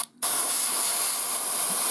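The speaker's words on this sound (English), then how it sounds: "Standard airbrush practice if you're just going to spray a whole piece." An airbrush sprays paint onto a Sector Mechanicus crane model, starting after a brief silence and then holding a constant, close, airy hiss to the end.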